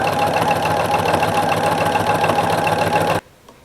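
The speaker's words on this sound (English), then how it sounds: "you're stitching close to the edge, and I'm using this part of my presser foot to go along the edge here" A sewing machine stitches along the edge of a fabric napkin, running in a steady rapid mechanical whir close up, then stopping abruptly with a faint click after.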